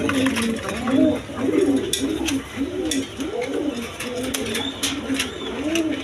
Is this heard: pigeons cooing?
yes